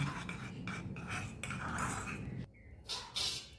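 Tomato sauce and mayonnaise mixed together in a bowl for stuffed bread, close repeated scraping and clinking of a spoon against the bowl in short strokes, then a pause and a few lighter taps.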